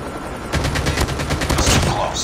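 Rapid automatic gunfire rattles in a dense burst of shots in Call of Duty Mobile as a hostile stealth chopper comes inbound, loud and close after a brief quieter lead-in.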